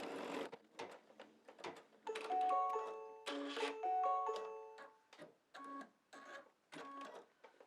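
An embroidery machine stitches an applique placement outline for an umbrella on an in-the-hoop mug rug, with short bursts of rapid mechanical whirring and tapping separated by brief pauses, close and alone.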